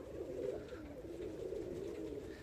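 Pigeons in a loft making a continuous, overlapping murmur of soft cooing, several birds at once at close range, with no talking.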